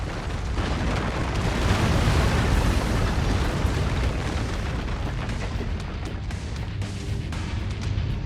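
Buildings in MechWarrior 5: Mercenaries collapse under a sustained roar of explosions, a dense rumbling barrage with scattered bursts that stays loud throughout and slowly thins toward the end.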